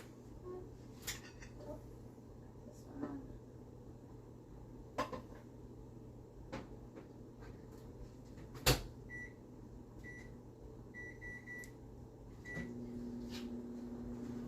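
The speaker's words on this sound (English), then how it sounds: "I'm going to put in microwave for 2 minutes." Quiet hum of a microwave oven running, with a few cupboard clunks and clicks, then a series of short electronic beeps near the end.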